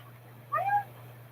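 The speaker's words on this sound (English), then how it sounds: "Silly kitty." A pet cat gives a single short meow indoors, close and clear over a low steady hum, with quiet all around it.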